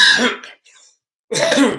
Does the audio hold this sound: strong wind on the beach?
no